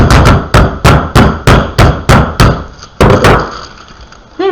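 Chicken for an Aussie chicken dish is pounded flat with the smooth side of a meat tenderizer, about a dozen loud, close, evenly spaced thuds with a short pause near the end.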